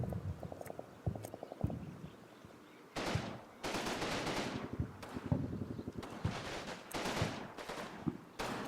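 Machine-gun fire in the Combat Mission WW2 strategy game, set in a battle in northern Sicily: rapid rattling bursts that start near and sharp, then mixed with repeated heavier volleys and loud broadband blasts of gunfire throughout.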